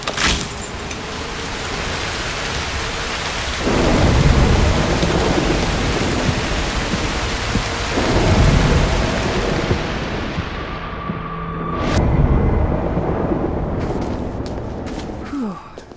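A thunderstorm in the video game Broken Pieces: steady heavy rain with swelling rolls of thunder that surge and fade several times, and a few sharp crackles near the end.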